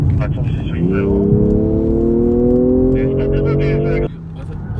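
A BMW X7 40i inline six-cylinder engine hums smoothly from inside the SUV while driving, a steady tone rising gradually as it pulls, then dropping off abruptly near the end.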